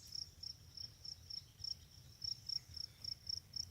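Insects chirp outdoors at a campsite, a steady high-pitched chorus of quick repeating pulses at moderate distance, with a low rumble underneath and no voices.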